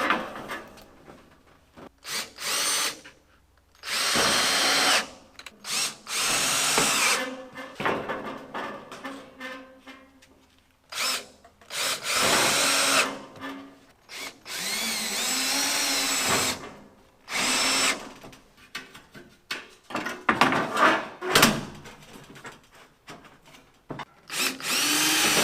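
A power drill driving screws to fasten corrugated metal siding onto wall studs in a metal building workshop, loud repeated bursts of whirring with pauses between, close by, no speech.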